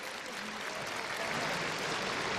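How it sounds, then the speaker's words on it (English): Applause from a home crowd in an arena after an uneven bars routine at the 2013 European Gymnastics Championships, a dense, sustained wash of clapping heard from a distance and building slightly in volume. "And the home crowd loving that."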